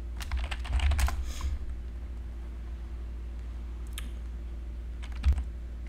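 Light tapping on a computer keyboard, bursts of quick keystrokes near the start and again late, soft and close over a quiet room hum with no talking.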